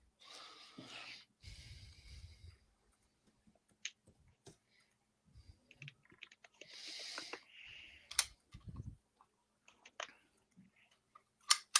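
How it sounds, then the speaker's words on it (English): Computer keyboard typing heard as scattered clicks and short tapping bursts, faint and irregular, with muffled background noises in between. "Oh, he's typing."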